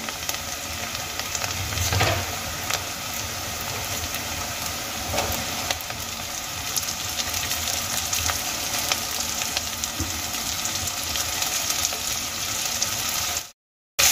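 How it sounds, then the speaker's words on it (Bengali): Thinly sliced potatoes fry with ginger and garlic in hot oil, a dense continuous sizzle close by with a couple of louder bursts as pieces go in, cutting off abruptly near the end. "এবার আমি এর মধ্যে দিয়ে দেব পাতলা পাতলা করে কেটে নেওয়া আলু"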